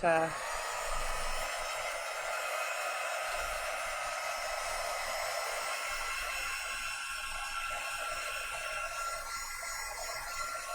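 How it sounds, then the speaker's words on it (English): A heat tool dries a craft project with a loud, steady, high-pitched whir that runs unbroken for about ten seconds, nearby. "let's hit it with the dryer so we don't"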